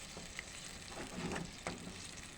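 Pork in coconut milk simmers uncovered in a pot for ginataang papaya, giving a soft, close, continuous bubbling and sizzling with small pops.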